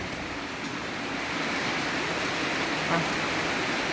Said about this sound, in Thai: เสียงฝน บรรยากาศดีคัก